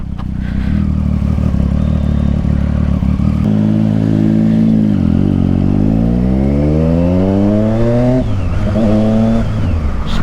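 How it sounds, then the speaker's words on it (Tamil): A Triumph Street Triple motorcycle with a Yoshimura exhaust revs loud and close, its engine note climbing and falling in repeated sweeps before settling back into a steady rumble. "Street triple with யோஷிமாரா exhaust."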